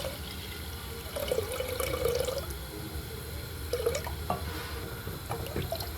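Broth is poured onto cooked rice in a home kitchen, a faint liquid splashing and trickling that comes in short bursts, with small clinks and drips in between.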